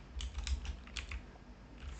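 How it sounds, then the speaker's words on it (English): Quick bursts of keystrokes on a computer keyboard as a command is entered, a dozen or so light clicks in uneven clusters, close and quiet with no talking. "Let's try to type it"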